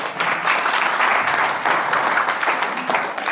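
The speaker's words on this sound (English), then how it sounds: "Give Eric a round of applause" A room full of people claps steadily, a dense round of applause that holds at an even level throughout.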